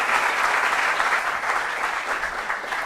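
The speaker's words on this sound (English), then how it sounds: "A round of applause for them" Audience at a school quiz contest between secondary schools breaks into sustained, loud applause, a dense steady wash of clapping throughout without talk.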